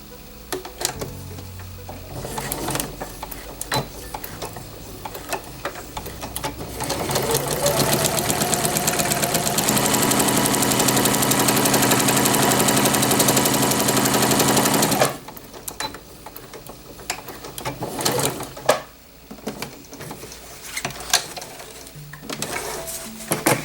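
A sewing machine running a double stitch on a petticoat, a loud continuous rapid whirring that starts up, runs steadily for several seconds and then stops, with scattered handling clicks before and after.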